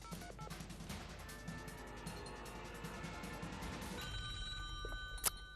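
A telephone rings on the set of a French-language TV game show, a steady electronic ring sounding clearly over faint studio room noise.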